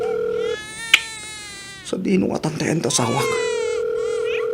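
A cellphone rings with a steady electronic tone that stops, and the ringing then resumes after a spoken line and a baby's crying.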